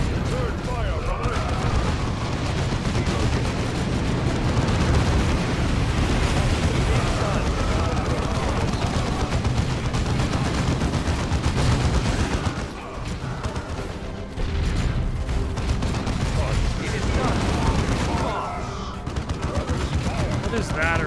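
Dense, continuous gunfire and booming explosions in the Warhammer 40k Dawn of War II Chaos Rising battle, loud and relentless with a short lull midway, under occasional voices.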